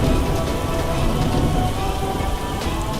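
Steady, dense rain pours down close by, a continuous hiss of drops on surfaces with a low rumble underneath and no distinct thunderclap; no one speaks.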